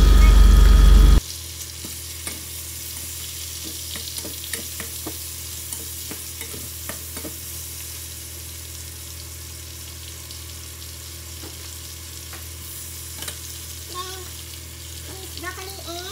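Onion and garlic sizzle in a pan for a pork stir fry with vegetables, a steady low frying hiss broken by scattered clicks of stirring, heard fairly close and without talk after a short loud opening burst.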